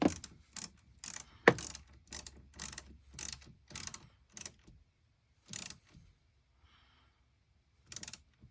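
A wrench ratchets in short, sharp clicking bursts while reconnecting the battery terminal on a Honda HRV, with a rhythmic series of close metallic clicks and then a few scattered ones after a pause.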